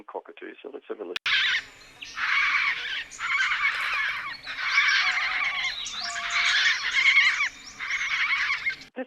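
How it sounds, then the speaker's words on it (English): Pink cockatoo, also called Major Mitchell's cockatoo, giving a string of loud, harsh screeching calls in repeated bursts, some with a squealing edge, close by and heard without any other sound. "the last cockatoo that we get in the listening area, I think, is easily one of the most beautiful birds in the world, and it's the pink cockatoo"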